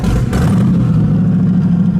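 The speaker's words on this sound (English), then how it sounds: "let's see if it cranks up first, and hopefully it does" A twin-turbo car engine runs with a deep, steady, rough rumble that holds loud and constant throughout, heard up close with no talk; the crank and start are not clearly heard.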